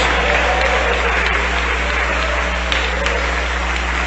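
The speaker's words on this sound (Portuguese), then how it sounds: "Eu quero ouvir palmas misturado com glória a Deus." A church congregation clapping their hands during worship, a continuous loud wash of many hands over a low steady hum, with no voices rising above it.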